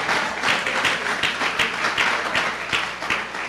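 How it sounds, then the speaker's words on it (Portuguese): A church congregation claps steadily for a few seconds, a dense patter of many hands with no voices over it. "Dê uma salva de palmas para essa igreja."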